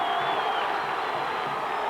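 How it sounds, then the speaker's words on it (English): Crowd at a high school football state championship game at Illinois State, on their feet before a fourth-and-one play, roars in a steady, dense cheer throughout with no clear voices standing out. "The crowd is on their feet here at Illinois State."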